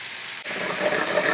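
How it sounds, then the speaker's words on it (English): Onions dropped into a pan on high heat over browned bits left from chicken, bursting into a sudden broad hiss that swells and holds for a second, close and loud. "Saute these onions."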